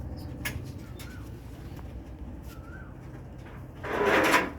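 Pigeons on a rooftop, soft cooing calls repeated a few times over quiet background, with scattered wooden knocks and a louder rustling flutter near the end.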